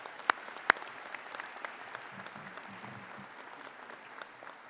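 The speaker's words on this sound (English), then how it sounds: "Let's give a round of applause to these leaders." An audience at a medical school white coat ceremony gives a round of applause, faint and distant throughout, with a couple of sharper claps near the start.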